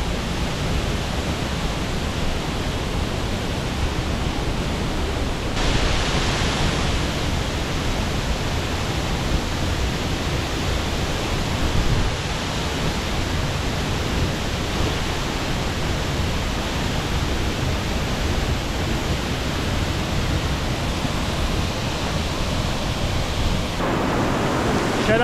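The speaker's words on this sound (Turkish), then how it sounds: "Kızıl Mercan Şelalesi." The Kızıl Mercan waterfall in the mountain village of Munduk, Bali, pours down in a steady, dense roar of falling water, loud and unbroken throughout.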